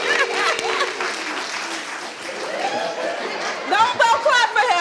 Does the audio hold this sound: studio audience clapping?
yes